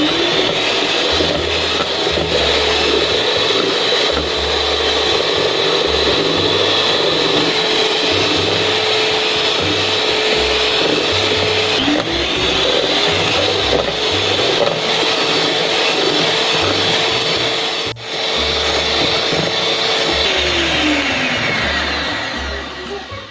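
An electric hand mixer beats eggs with powdered sugar for an orange tea cake, a steady loud whirring drone running throughout with slight pitch shifts, no talk.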